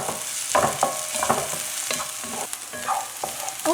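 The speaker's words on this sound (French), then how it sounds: "alors après avoir fait revenir les oignons" Onions sizzle in olive oil in a pan, close and steady, as a utensil stirs them with repeated scraping strokes roughly every half second, with no voices.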